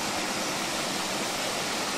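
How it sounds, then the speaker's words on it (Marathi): A waterfall on the Prabalgad trek near Mumbai spills down over rocks, a loud, unbroken close-up rush of falling water with no voices. "हा पाणी, हा धबधबा खाली जाते"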